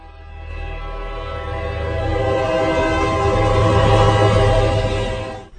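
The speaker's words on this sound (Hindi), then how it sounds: "ठीक 7:30 पर किसी ट्रेन के आने की आवाज आई।" A train pulls into a railway station in Ujjain, its horn sounding a long sustained multi-tone blast over rumbling wheels that grows louder and then cuts off near the end.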